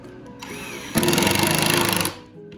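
A power drill driving Kreg pocket screws into half-inch material held square with clamps, giving one loud buzzing whir lasting about a second after a quieter start, with no talking.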